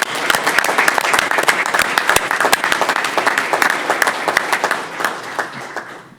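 A room full of people applauding at a city council meeting, dense sustained clapping close by for several seconds, then tapering off at the end.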